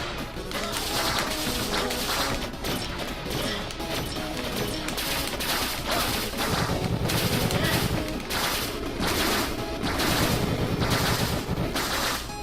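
Rapid laser shots fired at bats in the video game 20XX, a dense, continuous barrage of crackling zaps and crashes over loud game music, with a person talking over it at times.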